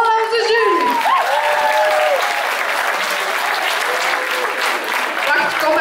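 At a playback show, the audience applauds the jury with loud, sustained clapping that fills the hall, while a voice speaks over it near the start.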